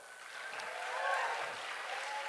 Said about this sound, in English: if you guys could all applaud real quick,